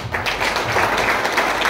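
Audience applause at a marketing plan presentation seminar, dense steady clapping from a room of people, loud and close throughout the short burst.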